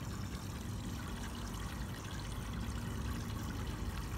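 Water pumped from a garden hose through a homemade solar pool heater makes a steady, even rushing and trickling flow, continuous and fairly faint throughout.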